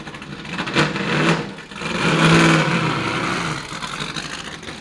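Historic sports and GT race cars at the Killarney circuit roar past on track, a loud engine swell rising then fading as cars pass nearby, with a second surge following; no talk.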